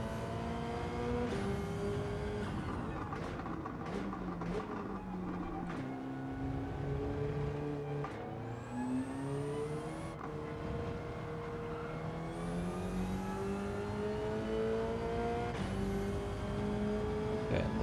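Car engine in the Gran Turismo 7 racing game revving and climbing through gears, with rising harmonic sweeps and repeated shift drops, loud and continuous throughout with no talk.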